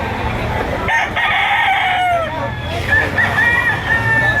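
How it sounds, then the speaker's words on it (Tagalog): Roosters crow with rising, drawn-out calls amid chickens clucking, while people talk in Filipino in the background at a chicken market in Lipa, Batangas. "Mga manok ito."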